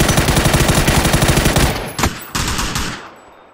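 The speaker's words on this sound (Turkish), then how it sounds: "Bayağı vurdum ama beni düşürdü." Automatic gunfire in the video game PUBG, a loud rapid burst of shots that rattles on for nearly two seconds, then a few separate heavy bursts trailing off, with no talking.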